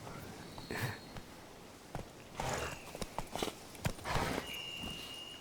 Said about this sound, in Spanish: Vale, ahora sí aparece mi caballo.